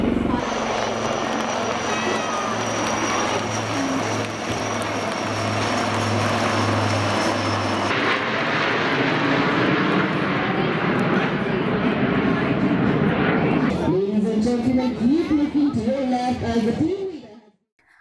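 Indian Air Force helicopter and Surya Kiran aerobatic team aircraft flying overhead, a loud continuous engine roar with a steady rotor drone for the first half, then a swelling jet rush as aircraft pass and fade near the end.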